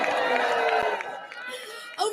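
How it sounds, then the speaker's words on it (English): A large audience at the Miss World final applauds and cheers, a broad wash of crowd noise and shouts that fades slightly before swelling again at the end, with voices mixed in. "Can I hear another round of applause for our continental top 5 of Asia and Oceania"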